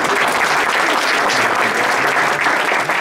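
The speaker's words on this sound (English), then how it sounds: "let's give Chris another round of applause" An audience claps steadily at the 2019 Waukegan Park District Volunteer & Patron Reception, a dense, close round of applause filling the whole stretch without a pause.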